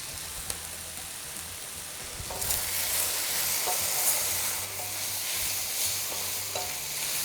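Beef and onions sizzling hard in a hot pan for a Mongolian beef noodle stir-fry, a dense steady crackle that swells louder partway through as the food is tossed, with occasional clinks.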